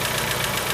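A cold car engine idles with a steady mechanical drone and fast, even tapping from the valve lifters, recorded close up with no voices.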